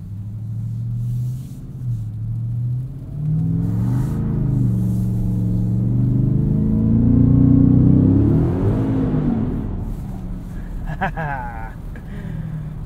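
The V8 engine of a Ford F-150 Raptor R on an icy street, a low rumbling drone that rises and falls as the truck accelerates, heard from inside the cab under a voice talking throughout.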